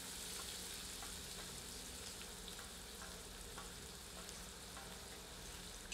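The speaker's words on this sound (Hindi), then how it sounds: "हमें इसको तब तक भूनना है जब तक कि प्याज थोड़ी सी पारदर्शी नहीं हो जाती।" Chopped onions frying in a pan for chana dal, a steady soft sizzle and crackle with faint stirring scrapes, close and unbroken, no talk.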